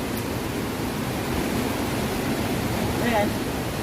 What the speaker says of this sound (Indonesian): air terjun bonus pantai semeter.